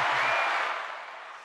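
Applause from a crowd at a talk show, a dense, steady clatter of clapping that fades gradually, with a brief low voice murmur at the start.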